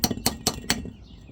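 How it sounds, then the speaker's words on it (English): Four sharp metallic taps in a steady rhythm, close up, a hammer striking a small metal brake clip on a Hyundai Elantra, followed by a brief quiet ring. "Grab a hammer, just tap that clip in."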